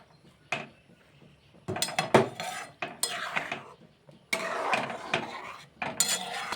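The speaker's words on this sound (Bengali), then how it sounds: "এই যে একটু নেড়ে চেড়ে দিচ্ছি কনডেন্স মিল্কটা যাতে সব সেমাইয়ের সাথে" Vermicelli halwa with condensed milk is stirred in a pan, producing close, irregular metallic scrapes and clinks of a spoon against the pan in bursts, with short quiet gaps between strokes.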